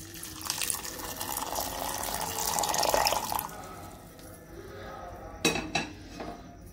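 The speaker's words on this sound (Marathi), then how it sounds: "आता ह्याच्यात मी गरम पाणी वतणार आणि एक अर्ध्या तासाने ते सोलून घेणार" Hot water is poured over sprouted val (field) beans in a kitchen vessel, a rushing pour for about three seconds, followed by a few metallic clinks of dishes.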